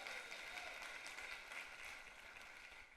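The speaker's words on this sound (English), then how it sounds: "Let's give them a round of applause." Audience at a 1 Million Cups community gathering applauding, a steady wash of clapping that holds evenly for a few seconds and then fades slightly.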